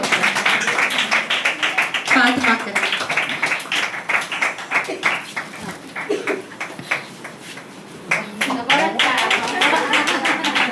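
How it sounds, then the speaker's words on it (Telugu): An audience at a New Year church service claps in a steady rapid rhythm that swells and fades. Someone talks over the clapping throughout. "కొట్టండి, చప్పట్లు కొట్టండి."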